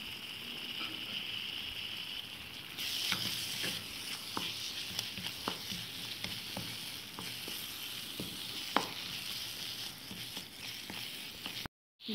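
Potatoes fry in a pan of olive and table oil with a steady, fairly quiet sizzle, with scattered utensil taps and stirring clicks through the clip and no voices.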